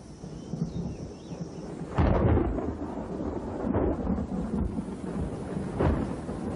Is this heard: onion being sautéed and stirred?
no